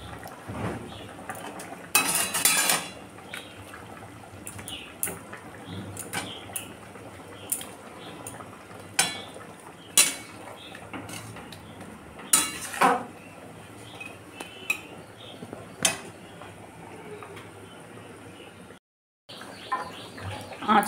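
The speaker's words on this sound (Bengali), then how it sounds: "ঝোলটা ফুটে গেছে, এবার মাছগুলো আমি দিয়ে দেব।" Fish pieces go into boiling curry in a pot, bringing scattered metallic clinks and clatters of utensils against cookware, splashy drips and a low simmering background, with a brief silent break near the end.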